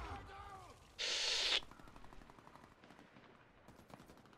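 A single loud, harsh burst of pistol fire in the video game Warface, lasting about half a second, then a quieter stretch of game ambience.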